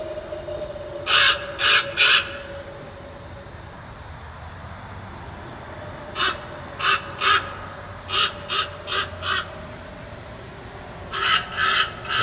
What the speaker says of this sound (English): And that crow is making a lot of noise, but that's the whole object.